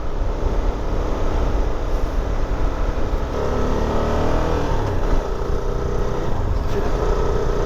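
CFMoto 300SR motorcycle engine holding steady throttle on a road ride, a loud continuous drone mixed with heavy wind rush, even and unbroken throughout, with no talking.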